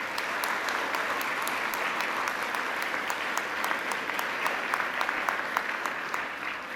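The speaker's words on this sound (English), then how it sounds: "A big round of applause, please." An audience at a school valedictory ceremony applauds, a dense, steady round of clapping from a crowd indoors, sustained evenly for several seconds with a few sharper claps standing out.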